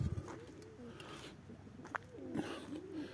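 Pigeons coo softly in a loft on a hot day, a few low rolling calls close by over faint background noise, with a brief voice at the start.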